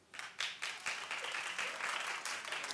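A television talk-show studio audience claps in a bright burst of many hands that swells quickly and holds steady for a few seconds.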